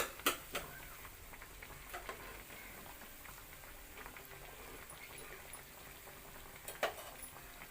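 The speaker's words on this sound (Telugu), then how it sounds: "ఒక రెండు నిమిషాలు ఫ్రై అవనిద్దాం" Pieces of a coconut milk sweet fry in oil in a pan, giving a soft, steady low sizzle with a few scattered light clicks and taps of a utensil, heard close but quiet.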